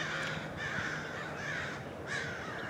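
Crows caw about 100 feet overhead, giving several harsh, rasping calls in an uneven series over a low background hum, faint and distant-sounding.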